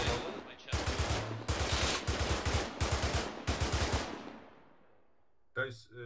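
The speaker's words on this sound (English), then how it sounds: "someone's shooting at us with a fucking machine gun, and it might be coming from that house" Bursts of automatic machine gun fire in a World War II ArmA 3 battle, several rapid rattling volleys close by, echoing off and fading into a quiet tail before a brief burst of voice.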